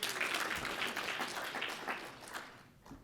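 Audience applause at a research retreat keynote, a crowd clapping steadily and fairly loud before thinning out toward the end.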